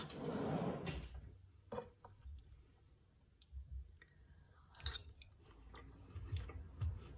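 Crunchy chewing of a freshly dressed salad close to the mouth, soft irregular bites and squishes spread over several seconds with no talking.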